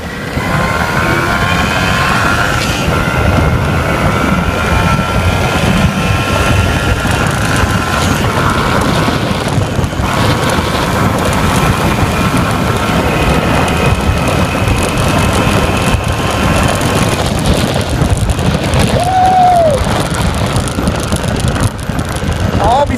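An MZ 251 motorcycle engine runs steadily and loud throughout, given light throttle on a ride, with wind buffeting the microphone and no talking.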